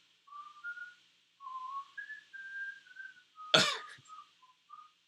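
Someone whistles a simple melody in short phrases, with a sudden cough or throat clearing breaking in partway through.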